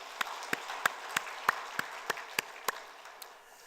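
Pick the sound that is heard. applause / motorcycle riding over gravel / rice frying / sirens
applause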